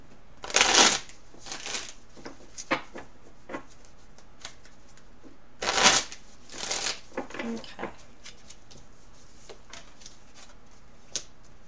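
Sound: shuffling tarot cards

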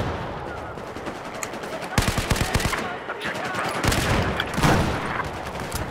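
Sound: gunfire in Battlefield 4 video game

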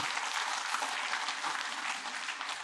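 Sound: congregation applauding the praise team

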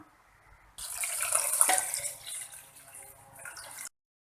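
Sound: hot water poured into rice pot

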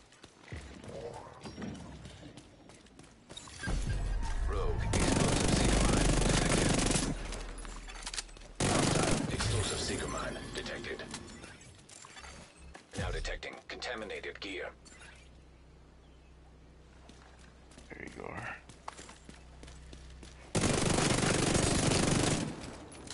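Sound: light machine gun firing in the video game The Division

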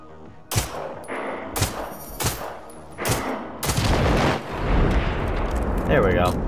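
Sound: gunshots at explosive objects in video game Generation Zero

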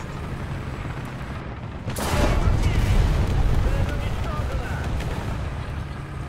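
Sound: tank gunfire in video game

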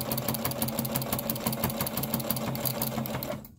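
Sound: sewing machine straight stitching fabric paper towels

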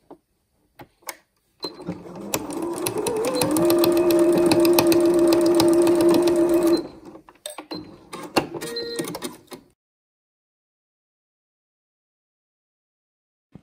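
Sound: sewing machine stitching two ends of bias tape together

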